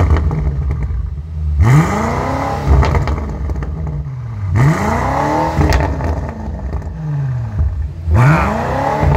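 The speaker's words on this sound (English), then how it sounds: "BMW just keeps taking their exhaust systems to the next level." A 2018 BMW M5 F90 in Nardo Grey with a 600 hp engine revs its exhaust three times in succession, each sharp rising roar falling back to a clattering idle between blips, loud and close with no talking.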